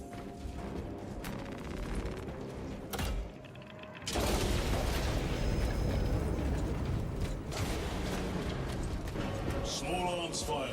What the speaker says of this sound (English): Small arms fire. It sounds close.